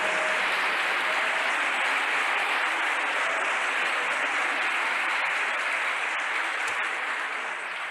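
A church congregation breaks into sustained, dense applause that fills the whole stretch at a steady, loud level, a broad crowd clapping without pause and easing only slightly near the end.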